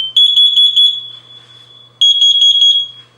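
A smoke detector runs its self-test, sounding loud, piercing, high-pitched beeps in two rapid bursts of pulses, separated by a short pause.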